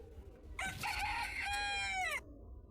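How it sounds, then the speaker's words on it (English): Rooster crowing sound effect layered into a CapCut motion-graphics breakfast advert: a single loud, drawn-out cock-a-doodle-doo lasting about a second and a half, rising then trailing off, with no voices over it. "I'll bring in this one, the cock crow sound."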